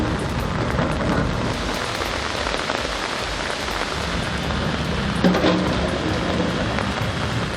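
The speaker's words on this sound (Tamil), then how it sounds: "உதம்பூர் பகுதியில் கனமழை கொட்டி தீர்த்த நிலையில்" Heavy rain pours down in Udhampur, a loud, constant wash of drops striking surfaces, with a brief sharper impact partway through and no voices.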